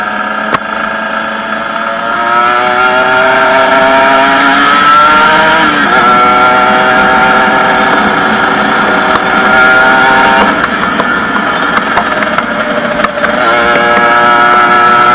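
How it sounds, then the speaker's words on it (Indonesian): Kawasaki Ninja RR two-stroke sport motorcycle engine droning steadily under throttle on a test ride, with pitch rising and falling through gear changes, loud and continuous at close range. "ketika gas kita muter itu rasanya kita muter gas dalam, tapi motor ini nggak lari-lari"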